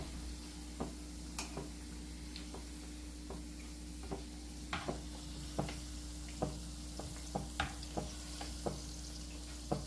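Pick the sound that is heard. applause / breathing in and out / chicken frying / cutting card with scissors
chicken frying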